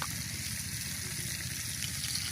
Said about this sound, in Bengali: এই যে এখানে কিন্তু ভাজা হচ্ছে, এই যে ক্যামেরা কিন্তু ফোকাস করে দেখতে পাবেন এটা কুমিরের মাংস